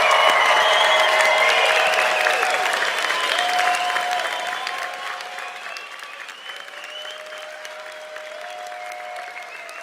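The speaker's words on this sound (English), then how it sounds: "let's raise the roof with one final round of applause to congratulate our graduates" A graduation ceremony audience gives the graduates a final round of applause, loud sustained clapping that slowly thins and fades toward the end, with faint cheers mixed in.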